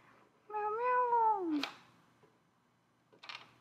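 A cat meows in a clear, rising-then-falling call lasting about a second, close and fairly quiet, followed after a pause by a couple of faint clicks or taps.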